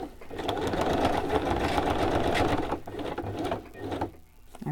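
A sewing machine runs steadily on a craft project, a dense continuous whirring buzz for nearly three seconds before slowing and stopping in short bursts near the end.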